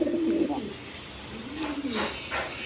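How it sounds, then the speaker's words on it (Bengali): Ring Rajgolla pigeons kept as a breeding pair among many birds, cooing in soft low rolling phrases, a couple of coos close by with faint background sounds. "প্রচুর পরিমাণ কবুতর ডাকে।"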